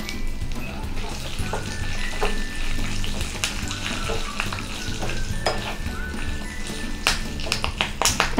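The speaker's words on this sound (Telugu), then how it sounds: "ఎండుమిర్చి కలర్ మారుతున్నప్పుడు కరివేపాకు వేసుకుందాం. చిటికెడు పసుపు వేసుకుందాము." A tempering of dried red chillies, curry leaves and a pinch of turmeric crackles in hot oil for a chutney, with a loud, close, continuous sizzle and scattered sharp pops and clinks, no voices.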